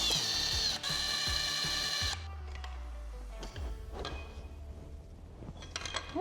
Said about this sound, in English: now I'm removing the final rod and piston